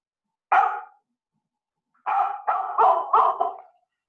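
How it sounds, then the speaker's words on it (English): A dog barks loudly and close by: one sharp bark, a pause, then a quick run of four or five barks, with no other sound around it. "A dog barks."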